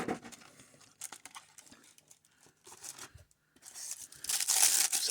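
Cardboard toy packaging for a Marvel Legends action figure being pulled out and torn, a run of close, uneven rips and crinkles with short pauses and a louder, denser tearing burst near the end.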